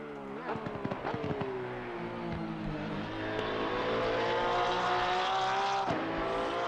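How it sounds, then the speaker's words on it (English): Race car engine of a Porsche 992 GT3R in Assetto Corsa Competizione at Valencia, a steady high-revving drone with pitch sweeps as gears change, loud and close throughout with a voice speaking over it. "I love the way the Porsche sounds. It sounds great."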